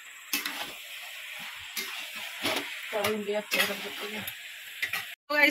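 Chicken frying in a pan gives a steady, close sizzle, broken by a few stirring scrapes and clatters, with brief voices talking over it.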